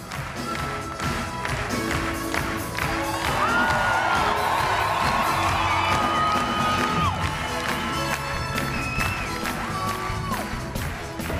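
An ecstatic audience at the European gala premiere of the Tarzan musical cheers and whoops loudly for about eleven seconds, a dense, continuous crowd roar with some higher whistling tones riding over it.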